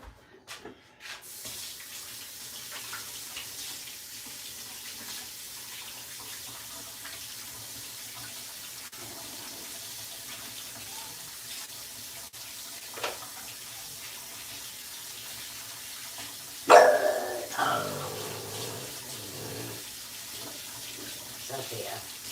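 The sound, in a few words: water running from a tap while washing hands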